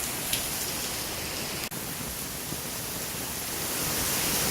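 Heavy rain in a June storm pours down steadily as a dense, even hiss that stays close and loud throughout, flooding a drainage area with no voices.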